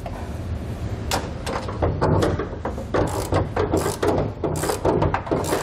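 Ratchet tightening the hardware of an underbed gooseneck trailer hitch beneath a truck bed, close and loud, in rapid clicking bursts and short pauses that repeat throughout the clip.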